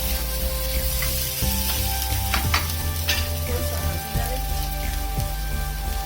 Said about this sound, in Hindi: इसको अच्छे से मिक्स कर लेंगे और भून लेंगे